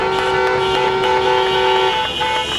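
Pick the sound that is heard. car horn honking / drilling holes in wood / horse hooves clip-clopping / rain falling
car horn honking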